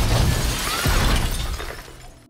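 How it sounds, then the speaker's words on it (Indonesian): A car crashing into a shop, with loud close glass shattering and crashing debris that starts at full force and fades over about two seconds. "Yongrok terus memacu mobilnya dengan kencang sampai menabrak sebuah toko"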